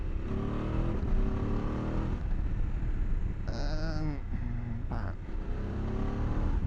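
A Voge 900 DSX or CFMOTO 800 MT adventure motorcycle with a quick shifter revs and accelerates, its engine drone rising in pitch through quick gear changes, heard close from the rider's position.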